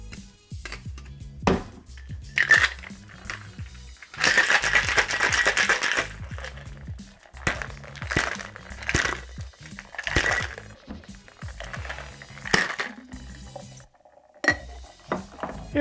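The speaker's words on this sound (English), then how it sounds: "we're gonna throw a little bit of ice in here, and we're gonna give this a shake." A Kamikaze cocktail shaken with ice in a cocktail shaker: rhythmic bursts of rattling ice clinking against metal, repeated over several seconds, close and fairly quiet, with no talking.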